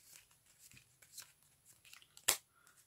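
Playing cards are shuffled softly up close, a quiet riffle of flicking cards ending in one sharp snap.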